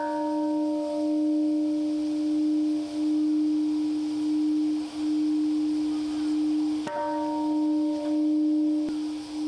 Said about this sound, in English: Bells rang out at a sunrise ceremony at Hiroshima's Peace Park